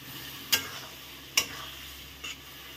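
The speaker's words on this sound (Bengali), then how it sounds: "মশলাটাকে কিন্তু ভালো করে ভেজে নিতে হবে" Spices stirred with jackfruit seeds in a pan for a ripe-jackfruit seed curry, heard as three quick scraping stirs, the last softer, over a faint steady sizzle.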